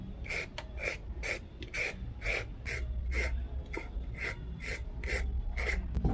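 Washed carrots being peeled for a carrot sugar scrub, a peeler rasping down the root in a steady rhythm of about a dozen close, crisp strokes over faint background hum.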